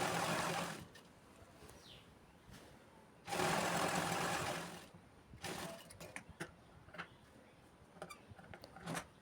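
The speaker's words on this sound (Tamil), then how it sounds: "தையல் வந்து மேலே போட்டுக்கலாம்." A sewing machine stitching the hem of a chudithar pant, running in a few loud bursts with quieter gaps and small mechanical clicks between the runs.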